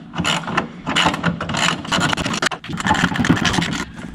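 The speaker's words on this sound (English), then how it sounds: "And now just tighten these back up." Ratchet wrench tightening bolts on a 1961 Morris Minor pickup, a close, continuous run of rapid metallic clicking strokes with brief pauses between pulls.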